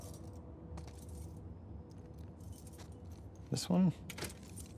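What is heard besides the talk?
keys jangling, trying keys in The Last of Us Part II video game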